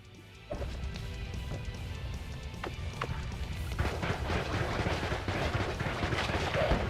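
Gunfire in the video game Noita, a steady spray of short crackling bursts and small impacts that builds in density and loudness toward the end, with no talking.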